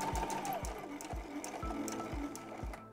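A sewing machine stitches a zipper bag, its needle thumping in an even, regular beat of low knocks, moderately quiet and close.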